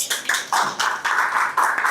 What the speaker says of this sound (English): Can we give him an applause?